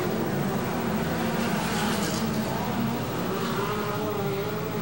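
USAC midget race cars at Limaland in 1994, engines roaring steadily and loud as the pack runs under green, a continuous dense drone with no clear pauses.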